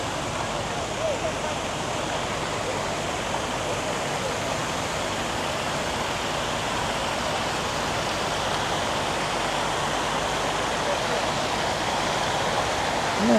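Water from the Berczy Park dog fountain pours and splashes in a continuous, even, broadband rush, steady and fairly loud throughout with no clear breaks.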